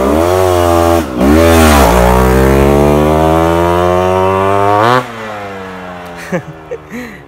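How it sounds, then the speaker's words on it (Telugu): A Yamaha RXZ twin-spark two-stroke motorcycle engine revs loud and close, its buzzing note dipping and climbing through several throttle blips before dropping to a ragged idle and a few short pops. "the legacy carrying bike sound విన్నారు కదా"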